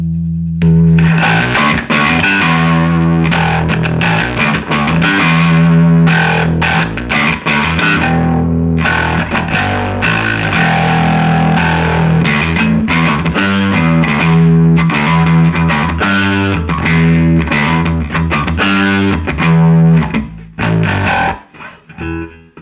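Bass guitar played through a 1980s ProCo Rat II distortion pedal, thick fuzzy notes and riffs ringing loud and sustained, note after note in a continuous run before trailing off.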